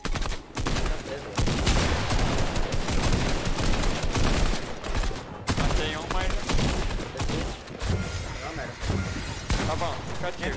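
Rapid bursts of gunfire crackle almost continuously, loud and dense, with voices talking over the shooting.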